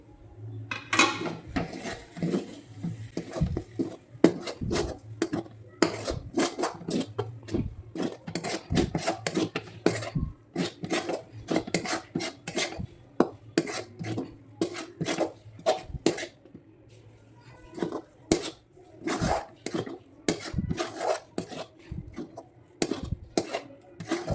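A spoon mixes spices, garam masala, turmeric and coriander-cumin powder, into a mashed toor dal paratha filling in a bowl, with dense rapid scraping and clinking strokes continuing steadily for over twenty seconds, close and fairly loud.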